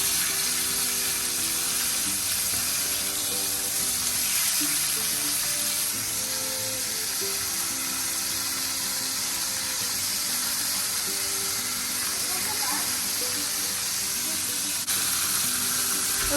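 A lamb steak fries in a pan with a steady, close, continuous sizzle that holds at an even level throughout, with no talking over it.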